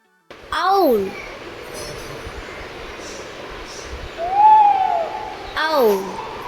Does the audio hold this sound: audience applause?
no